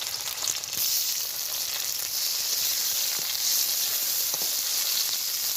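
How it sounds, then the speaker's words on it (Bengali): Onions and tomatoes frying in a wok for a village-style fish curry, a steady loud sizzle and hiss running throughout with occasional faint stirring taps. "এই যে কড়াইতে পেঁয়াজ ভাজা হচ্ছে, পেঁয়াজটা হালকা করে লাল হয়ে আসছে।"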